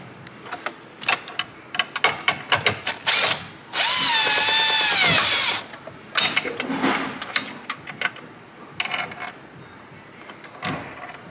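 Bolts being removed from a DE5 Integra Type-S or FL5 Civic Type-R with a power tool and 10 mm socket: a sustained whirring spin-down of about two seconds, surrounded by clattering ratchet clicks and handling noises, close and without speech.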